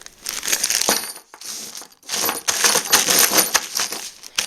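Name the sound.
loose metal fasteners and lock washers spilling from bag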